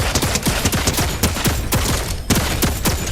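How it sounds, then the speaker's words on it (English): Rapid, loud bursts of automatic turret gunfire in the Fortnite video game, a dense stream of close shots with occasional brief pauses and no talk. "And there's the turret, just demolishing everybody."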